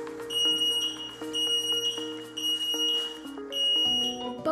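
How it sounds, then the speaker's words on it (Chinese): Battery-operated smoke detector alarm sounding loud, shrill, repeating electronic beeps in bursts with short gaps, close and alone. "即使闩埋门喺走廊，依然听到好响嘅警钟声"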